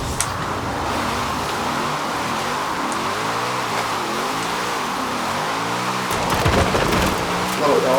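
Car drifting in Forza Horizon 4, with a steady engine drone whose pitch sweeps up and down as the car slides through corners, continuous and fairly loud, with a brief scuffing burst near the end.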